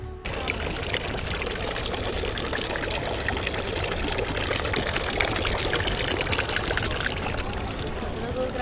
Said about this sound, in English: Here's where everybody comes to refill the bottles of water for free in Dubrovnik.